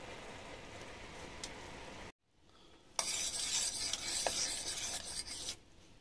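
A spoon stirs a sauce in a pan over high heat, giving a steady rasping scrape that drops out briefly near the middle, then returns louder and fuller before easing off. No one speaks.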